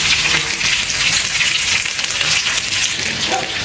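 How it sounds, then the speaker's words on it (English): Meatballs frying in oil in a pan, a loud, dense, steady crackling sizzle close to the pan with no talking. "I got a couple more meatballs to fry"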